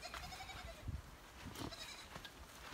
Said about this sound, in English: Okay, one more peek at the goats.